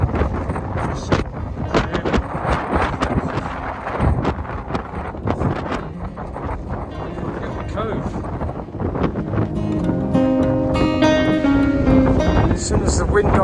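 Strong gusts buffet the microphone on a coastal walking path in rain, roaring and rumbling steadily beneath a person talking.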